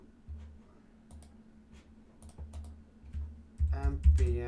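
Someone types an npm install command on a computer keyboard: sparse, quiet, scattered key clicks in a calm room, followed by a louder burst of sound at the end.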